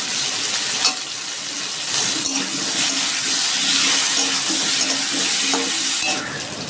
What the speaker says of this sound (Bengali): আমি আলুগুলো একটু ভেজে নিচ্ছি